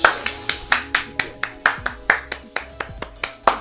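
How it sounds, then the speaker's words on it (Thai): A quick run of sharp hand claps, around a dozen evenly spaced bursts, cracks out loudly over a soft, steady tonal background with no talking. "เย้ปรบมือ"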